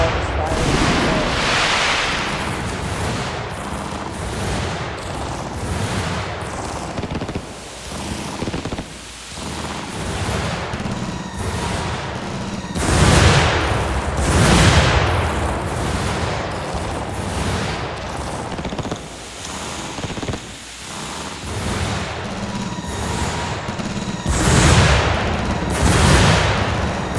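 Fireworks show at a Fireworks Playground game event, with repeated bursts of booming explosions and crackling volleys rising and falling over nearly half a minute, dense and loud, with people talking underneath.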